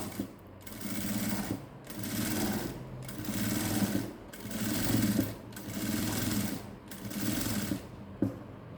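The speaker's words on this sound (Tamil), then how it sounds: "இப்போ வந்து இது மேலே நம்ம இன்னொரு தையல் போட்டுட்டு வரலாம்" Sewing machine stitching a blouse with lace trim, running in repeated bursts of steady whirring needle action, each lasting about a second with brief pauses between, close and continuous without talk.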